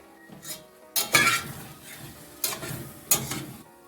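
Warm bean salad being stirred in a pan, with several sharp utensil clinks and scrapes against the metal amid a light background sizzle, no talking.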